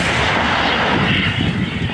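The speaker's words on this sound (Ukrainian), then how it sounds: "Гармата! Постріл!" A heavy, booming blast from an artillery cannon firing a shot, with a long rumbling tail that fills the whole stretch, loud and close.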